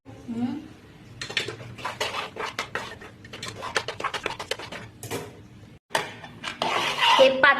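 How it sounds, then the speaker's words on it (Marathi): A spoon stirs thick sweet lentil puran in a pan, scraping and knocking against the metal in quick repeated strokes, close and fairly loud, with a voice talking at times. "जोपर्यंत घट्ट होत नाही तोपर्यंत असं चमचा फिरवत राहायचं"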